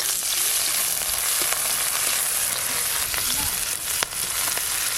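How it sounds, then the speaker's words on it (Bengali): Chopped onion and slit green chillies fry in hot mustard oil with nigella seeds in a kadai, a steady close sizzle with occasional stirring scrapes and light clinks. "কড়াতে সর্ষের তেল দেব, সর্ষের তেল, কালো জিরে ফোড়ন দেব, পেঁয়াজ কুচি আর দেব চেরা কাঁচা লঙ্কা।"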